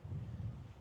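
Wind gusts outdoors at a campsite, buffeting the microphone with a low, rumbling roar that swells and dips over a brief moment.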